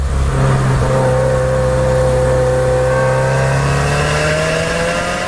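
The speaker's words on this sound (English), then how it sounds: "while I'm driving the new WRX and match the sound to the revs of this engine" New Subaru WRX with a boxer engine revving while driving, a loud, steady engine tone climbing in pitch as the revs build, alone without speech.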